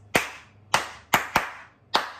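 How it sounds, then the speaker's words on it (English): Hands clap out a song rhythm alone, five sharp, close claps in an uneven pattern with two quick ones near the middle, for the Scottish children's song Katie Bairdie. "We're not going to say anything, but we're going to clap the rhythm."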